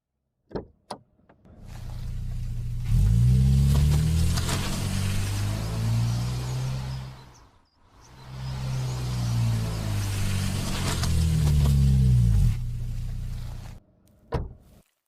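A car engine rises as the vehicle rolls in close, fades briefly, then builds again before going quiet, with a couple of sharp clicks at the start and end.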